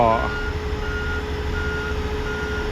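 A new XCMG GR2205 17-ton motor grader, grading and spreading selected fill material, sounds its reversing alarm: evenly spaced electronic beeps repeating about four times over a steady engine drone.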